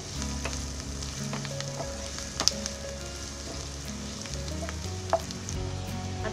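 Chopped onion sizzles in oil with salt in a pan for a restaurant-style kadai paneer, a steady close crackle with occasional sharper pops and faint stirring, no voices.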